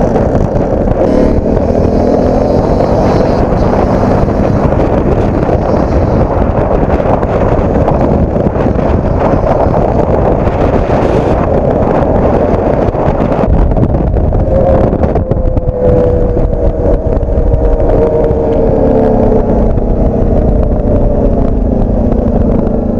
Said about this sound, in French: Mode passager avec la demoiselle qui conduit le quad et mon collègue qui fait la 85.